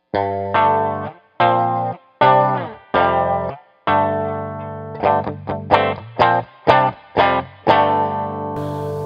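An electric guitar in drop D tuning strums a heavy, chorus-washed power chord in repeated stabs, some ringing longer, others quick and choppy, loud and close with no voices.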